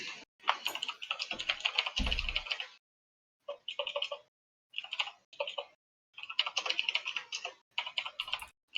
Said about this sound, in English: Yeah, I was typing a message to somebody. Who else here has a mechanical keyboard?